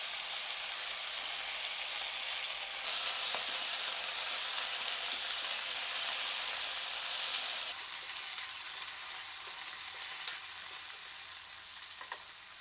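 Val papdi beans dropped into hot tempering oil with cumin, curry leaves and asafoetida hiss and sizzle steadily in a kadhai, a continuous close frying crackle with occasional stirring clicks.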